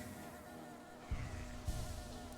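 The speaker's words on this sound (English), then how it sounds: "I love the little bees just bobbing." Soft, steady insect-like buzzing from little bobbing bees in the video game Hollow Knight, a faint continuous drone with a couple of slightly louder swells and no voices.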